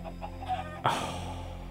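Minecraft chickens clucking: a faint, low background hum, then one sudden louder cluck-like burst partway through that fades into a soft wash.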